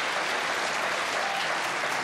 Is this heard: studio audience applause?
yes